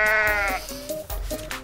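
A goat in the video game Goat Simulator lets out a loud, wavering bleat followed by a couple of shorter, nasal cries, close and clear with no talking.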